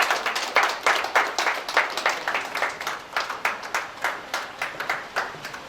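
An audience claps together in a steady rhythmic beat, loud and sustained, with little else audible.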